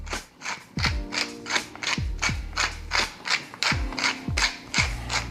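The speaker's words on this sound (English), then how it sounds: "And now we'll grind a little pepper." A pepper mill cranked by hand over food while preparing a copycat blooming onion and dipping sauce: a run of rapid, rhythmic ratcheting grinds, close and crisp, repeating in short bursts.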